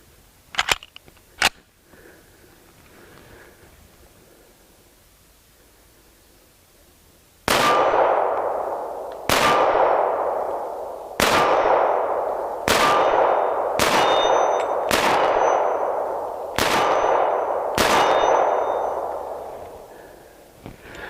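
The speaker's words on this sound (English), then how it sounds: "I'm gonna shoot 8 more rounds right now." A Springfield Armory XD-45 pistol fires .45 ACP rounds outdoors at a range: eight loud, sharp reports at roughly one-to-two-second intervals, each ringing out and decaying, preceded by a couple of small clicks and quiet handling.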